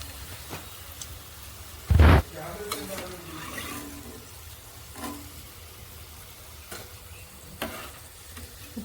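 Wheat flour pakodis fry in hot oil, a soft continuous bubbling sizzle with one loud sharp clatter early on and scattered light clinks of a utensil afterward.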